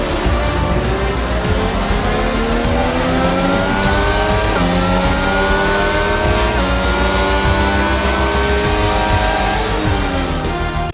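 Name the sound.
F1 car driving after the Canadian GP, from F1 22 video game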